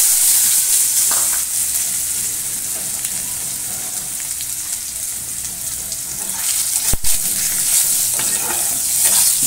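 Mangoes stirred into boiled dal in a pan tempered with dried red chillies and mustard seeds, giving a steady close sizzle with scraping stirs and one sharp clack near the end.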